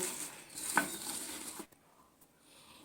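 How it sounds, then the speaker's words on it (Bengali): Drumstick leaf fritter batter squished and kneaded by hand with salt, soft wet squelching and rustling for about a second and a half, close and moderately loud, then dropping to near silence. "নুনটা দিয়ে আরও মিনিট তিনে সময় নিয়ে হাত দিয়ে মেখে নিতে হবে"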